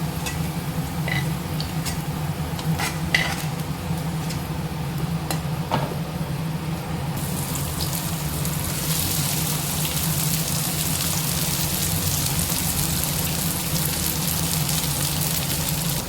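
Okra pieces frying in hot oil in a pan, a steady close sizzle and crackle running throughout, growing brighter and denser partway through.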